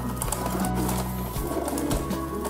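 Young pigeon, a pied-headed, white-barred squab under two months old, cooing softly in a few low, rolling bursts against steady background noise.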